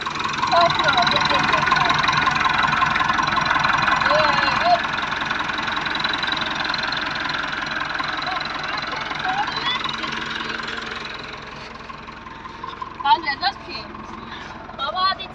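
Tractor engine idling and running steadily while reversing during a driving lesson, a constant mid-pitched drone with people talking over it throughout.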